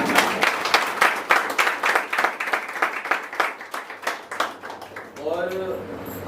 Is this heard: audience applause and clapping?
yes